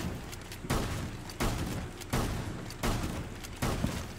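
Gunfire in Rainbow Six Siege, a series of about six heavy, booming shots at a regular pace roughly every 0.7 seconds, each with a short rumbling tail, loud and close with no talk over it.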